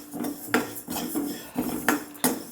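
Moong dal dry-roasting in a pan for sweet pongal, with repeated scraping and clinking strokes of a spoon against the metal at a steady rhythm, close and fairly loud, with no talk.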